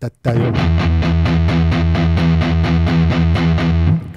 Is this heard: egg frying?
no